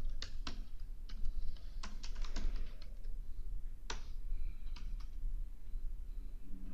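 Name being typed on a computer keyboard into an Excel spreadsheet: a fairly close, irregular run of sharp key clicks in short bursts with brief pauses, no talking.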